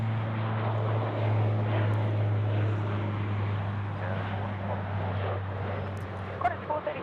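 An aircraft at Sydney Airport drones steadily with a low, constant propeller and engine hum, moderately distant, under faint background noise.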